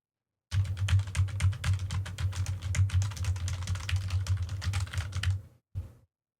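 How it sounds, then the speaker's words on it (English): Typing on a computer keyboard captured through a Rode Procaster dynamic microphone on a desk: a steady, dense run of close key clicks and clacks lasting about five seconds, then a brief final burst of keystrokes. "Okay, now I'm going to type on my keyboard."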